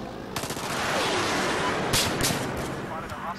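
Sustained automatic gunfire from the video game Battlefield 4 keeps up a dense, rapid rattle of shots throughout, loud and close, with heavier bursts partway through.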